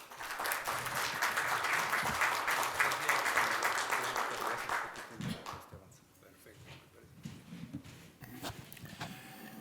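An audience at a medical conference lecture applauds the arriving doctor with dense clapping that holds for about five seconds, then fades into scattered claps and room murmur with some speech.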